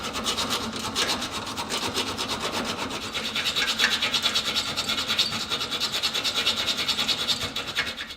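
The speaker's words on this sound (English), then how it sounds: "I've cut it almost half through the bolt now." A Jaguar S-Type front subframe bolt being cut through, heard as a fast, regular rasping of back-and-forth strokes, close and steady for the whole stretch.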